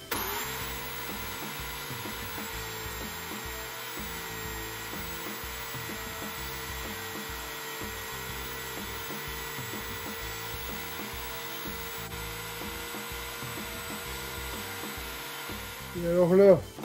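Cedar wood being shaped round on a homemade sander built from a computer hard-drive platter, giving a steady whirring, rubbing drone that holds evenly throughout and swells briefly louder near the end.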